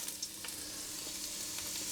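Onions and celery fry in a pan for a one-pot beef and root vegetable dish, giving a steady, close sizzle with faint crackles and light stirring scrapes throughout.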